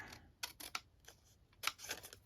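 A few sharp snipping cuts of large scissors through paper, spaced irregularly and close by, with quiet pauses between them.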